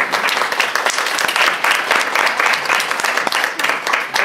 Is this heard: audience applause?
yes